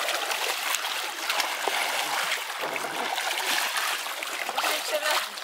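Pool water sloshing and splashing in broad, continuous bursts as people churn up big waves in a backyard swimming pool, with voices talking over the watery wash.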